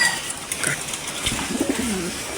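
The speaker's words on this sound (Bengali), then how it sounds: "এই যে কবুতরটা, তো এখন মাদি কবুতরটা দেখাই চলো আপনাদেরকে।" Domestic jira-necked pigeons, including a female, coo at a house with a few soft, low coos midway through, faint against a background hiss.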